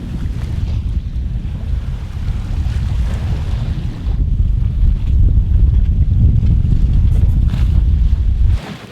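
Strong wind roaring across a sailboat at sea, a loud, continuous rush with heavy low buffeting on the microphone and water noise beneath, steady throughout with no voices.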